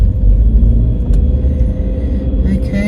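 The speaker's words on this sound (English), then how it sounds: "There's road traffic thing happening here, guys." Road traffic rumbles past close by, a loud steady low roar of passing cars lasting a few seconds, with no voices over it.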